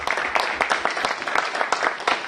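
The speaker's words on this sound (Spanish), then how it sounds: "Un fuerte aplauso también, por favor." An audience at a civic event on citizen participation claps together in a dense, steady round of applause, close and fairly loud throughout.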